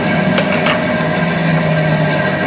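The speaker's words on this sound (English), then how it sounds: "Now that's how a bandsaw should sound." A workshop bandsaw runs smoothly with its extraction off, giving a steady, close, even whir and hum with a couple of faint ticks, no grinding or rattling, and no talk.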